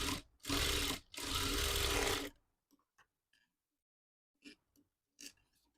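Sewing machine stitching the other side of a designer bow's cloth, two close, loud runs of fast buzzing stitches with a brief break between them, then near silence with scattered soft taps and rustles.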